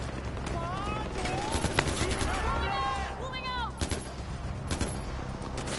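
Gunfire in the video game Far Cry 4, a busy firefight of sharp shots and bursts with whistling and chirping effects mixed in, under occasional voices.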